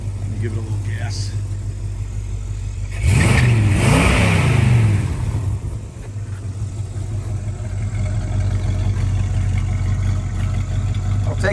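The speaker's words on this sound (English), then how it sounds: "Let me give it a little gas." An original C-code 1965 Ford Mustang engine idles steadily, then gets a short, loud blip of throttle that rises and falls before settling back to a low rumble, with someone talking over it.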